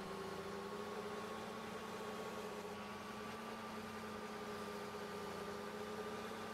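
Steady tractor engine idling in Farming Simulator 15, a rental tractor with a big exhaust pipe in need of engine work, droning evenly and continuously with a low hum throughout and no talk.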